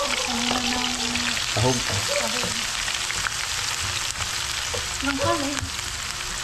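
Eggs with plenty of chili frying in a pan, a steady close sizzle running throughout, with a person speaking briefly over it.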